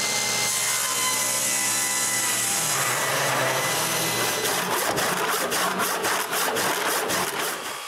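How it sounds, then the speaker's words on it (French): Piece of maple sawn by hand on a homemade wooden bandsaw frame project, a steady loud rasping that turns into quicker rhythmic strokes toward the end, close up and with no speech. "Après avoir coupé un bout d'érable, je marque la partie que je dois encore couper"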